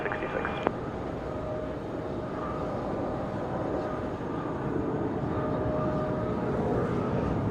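Embraer E175 jet at Charlotte Douglas airport on a windy day, a distant, steady engine rumble and whoosh sustained throughout, faint and broad, with a brief tonal blip near the start.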